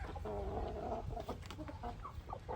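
A ten-month-old Nellore breed rooster of an Indian fighting line, weighing about 3.5 kg, gives a run of short, fairly faint clucking calls in quick irregular succession at a farm, with no one speaking over it.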